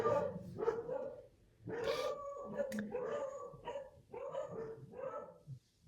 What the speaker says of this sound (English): Now we have the dogs going nuts.